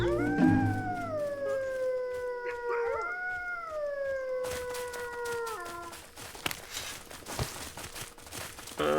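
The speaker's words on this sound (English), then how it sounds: "Some more wolves to our left over there, look." Several wolves in the survival game Aska howl together in long rising and falling overlapping notes, fairly faint and distant, fading out midway into quiet ambient rustling and light footsteps.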